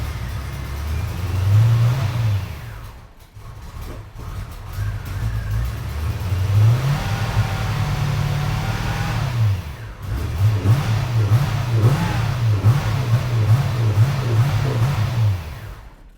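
A C4 Corvette engine that won't idle revs up hard several times, rising and falling in loud close surges, with a short dip between bursts and steadier pulsing revs toward the end.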